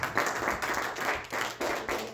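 A church congregation at a Sunday service claps and applauds together in steady bursts, loud and close, with short gaps between rounds of clapping.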